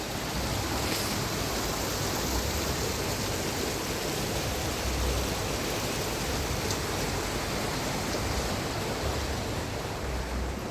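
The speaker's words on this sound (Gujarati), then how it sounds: "આ એક પાણીનું છે ને પ્રવાહ, ટૂંકમાં એક ઝરણા ટાઈપ છે." Water from a mountain stream, falling continuously from above, rushes steadily, a dense, unbroken wash of noise with no pauses.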